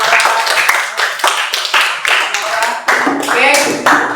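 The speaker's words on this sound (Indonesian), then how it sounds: "Oke, tepuk tangan buat." A classroom of students clapping together in quick, dense bursts, loud and close, with voices mixed in among the applause.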